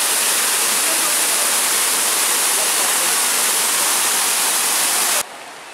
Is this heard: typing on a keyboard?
no